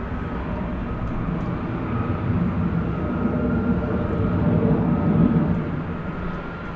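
Jet airliner taking off at night at DFW Airport, a steady broad roar that swells gradually and peaks near the end, heard from a distance with no talking.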